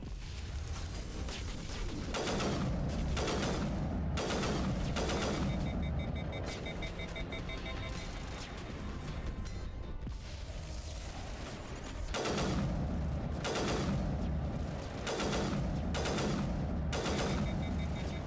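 Rapid bursts of gunfire crackle through a Mass Effect Legendary Edition firefight, dense volleys repeating in waves with brief lulls, loud and close, with no talk over them.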